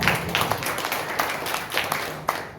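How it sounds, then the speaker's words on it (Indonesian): Scattered applause from a church congregation at a Sunday worship service, light and uneven with a few sharper claps standing out, fairly distant in a reverberant hall. "Tepuk tangan."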